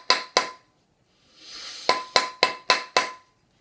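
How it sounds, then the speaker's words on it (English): Repeated metal hammer strikes on a coin ring seated on a steel mandrel, ringing sharp taps in an irregular rhythm: two blows, a brief rushing noise, then five more in quick succession, close and clear. "Get back to hammering it"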